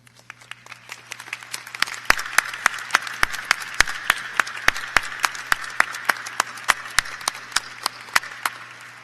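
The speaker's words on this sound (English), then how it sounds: "If they would all stand and accept our applause for their service this afternoon." Applause from a university graduation ceremony audience, with distinct, fairly sparse hand claps in an uneven rhythm over a steady hum, holding a constant level for several seconds with no talk.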